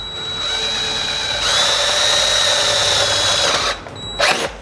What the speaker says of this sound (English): I'm gonna start with my 3/8 bit and I'm gonna drill out the existing holes